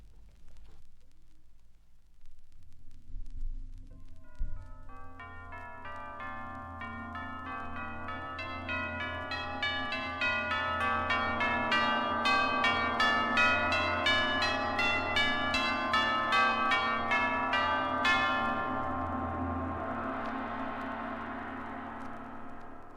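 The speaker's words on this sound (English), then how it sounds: "This is a large type of dinner gong, and when beaten gently, its sound grows and swells in volume and intensity, like this." A large orchestral tam-tam, a kind of dinner gong, is beaten gently and repeatedly so that its shimmering metallic roar builds steadily in volume and brightness. It swells over many seconds before easing off, heard alone.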